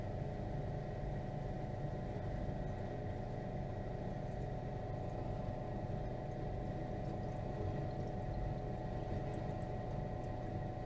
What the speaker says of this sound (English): So let's pour this in real slow here.